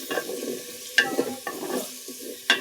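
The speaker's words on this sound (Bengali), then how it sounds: "এখানে আছে পেঁয়াজ বাটা, রসুন বাটা, আদা বাটা আর গরম মশলা দিয়ে কিছুক্ষণ ভেজে নেব।" Onion, garlic and ginger paste with garam masala frying in a pot, a moist sizzle broken by loud scraping stirs at irregular intervals, close and clear with no voices.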